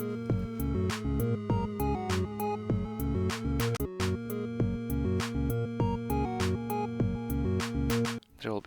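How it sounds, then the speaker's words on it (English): A single synthesized note shaped by FL Studio automation, rhythmically pulsing and re-triggering in a steady pattern over a sustained low bass, loud and continuous with no voices. "thankfully FL Studio has great automation controls which allows me to make a single note sound like this"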